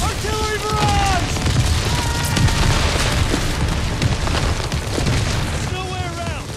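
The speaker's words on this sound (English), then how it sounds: "Artillery barrage!" An artillery barrage in Call of Duty: WWII: continuous loud booms and blasts rumble without pause, mixed with gunfire and shouted voices.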